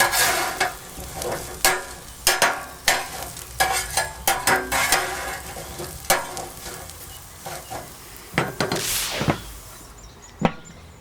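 Steaks on a Weber Q gas grill, turned partway through cooking, give a steady sizzle under a run of sharp, irregular clicks and scrapes of tongs or utensils against the grill, with no talking.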